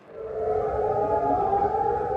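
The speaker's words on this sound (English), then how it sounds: "Air raid sirens echoing here in Jordan." An air raid siren wails in Jordan, a single sustained steady tone rising in and holding, heard from a distance with an echoing quality and no talk.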